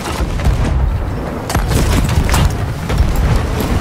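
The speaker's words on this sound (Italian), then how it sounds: "Qualcuno ci sta sparando." Heavy booms and gunfire strike around a ship in a pirate video game, a dense barrage of loud blasts and cracks that keeps going with no break.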